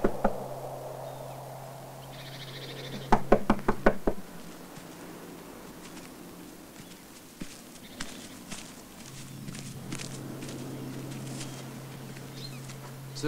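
A quick run of about six sharp, loud knocks on a door, close by, breaking a quiet indoor scene with a low steady hum before and after.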